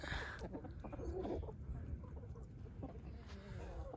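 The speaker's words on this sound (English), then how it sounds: "Chickens are all just hanging out." Chickens clucking softly in the background amid low rumbling ambient noise, with faint murmurs scattered through the clip.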